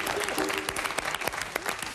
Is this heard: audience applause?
yes